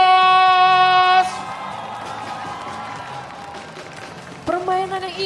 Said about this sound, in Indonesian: kita beri tepuk tangan yang paling meriah untuk